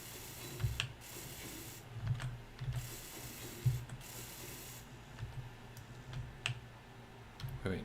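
Space Engineers ship fin being welded in-game: a steady mechanical whirring bed with repeated low ratcheting clicks and knocks, moderately quiet, no talking.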